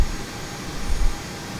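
Steady broadband roar of Airbus A320 jet engines during taxi in Microsoft Flight Simulator 2020, a constant hiss over a low rumble that swells briefly near the end.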